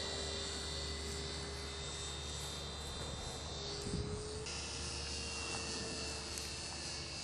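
An Extra 300 RC model airplane engine drones faintly in flight, a thin steady whine sitting over a constant background of chirping insects, with no talking.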